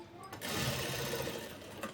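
A sewing machine stitches fabric for palazzo pants, a brief rapid mechanical whirr heard up close for about two seconds.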